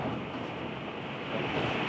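Strong wind buffeting at a campsite in Denmark, a steady rushing roar with mild gusts, close and fairly loud, alone with no voices.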